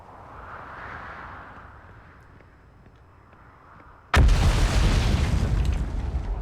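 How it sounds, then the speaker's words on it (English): A sudden loud boom in the Outer Wilds video game cuts through a quiet ambient hum, followed by a sustained roaring, crackling rumble of ongoing explosions. "Stuff is exploding behind me, and that's not good."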